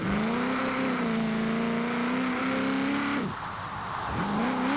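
A tuned Nissan 240SX drift build in Forza Horizon 4 holds a loud, steady engine drone while sliding, with a brief dip in revs before the engine pulls back up.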